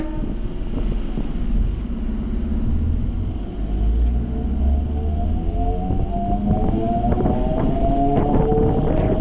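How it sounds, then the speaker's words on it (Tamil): A suburban electric train pulls away from Korattur station, heard from on board: a steady, loud rolling rumble with a motor whine that climbs in pitch as the train accelerates, and no voices. "கொரட்டூர்லேருந்தும் இப்போ ட்ரெயின் ஸ்டார்ட் ஆகிடுச்சிங்க"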